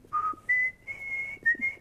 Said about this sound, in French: il sifflotait, il chantonnait.